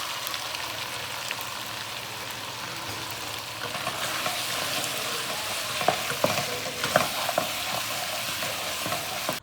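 Potatoes fry with spices in a pan as capsicum goes in, giving a steady close sizzle with stirring scrapes and a few sharper knocks of the spoon toward the end; nobody speaks.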